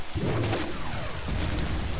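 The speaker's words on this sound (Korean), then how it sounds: "빗소리가 아주 시원해. 진짜 비 내리는 것같아데아" Rain effect from a video game map pours loudly and steadily throughout, a dense hissing wash with low rumbling swells and no talk.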